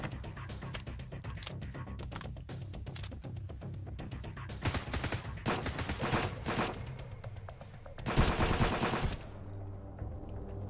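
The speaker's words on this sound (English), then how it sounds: "So there was one more shooting from around here." Gunfire in the survival game Sunkenland: dense, sustained bursts of rapid automatic fire, mostly mid-distance, with a louder, sharper burst about two-thirds through before it tapers off.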